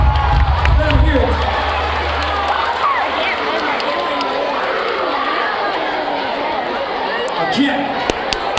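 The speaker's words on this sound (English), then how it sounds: "give them all a great big round of applause" A school crowd of students cheers, claps and chatters for dance-off contestants in a gym-like hall. The noise is loud and steady, louder in the first couple of seconds, then settles into sustained cheering with some shouts.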